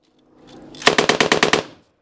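Close machine gun fire in a firefight with the Taliban, heard from a minesweeper's helmet position: a single loud, rapid burst of about eight sharp shots, with no talk over it.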